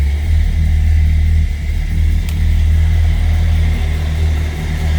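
A 1972 Cadillac Eldorado with a 500 cubic inch V8 and newer muffler idling, a loud, steady deep exhaust rumble close by with a slight dip midway, no talk.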